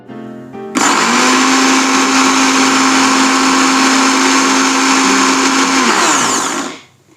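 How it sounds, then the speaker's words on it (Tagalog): A blender whirs through garlic and ginger for kimchi, switching on abruptly into a loud, steady high whine that holds for about five seconds before spinning down. "now that we're done blending"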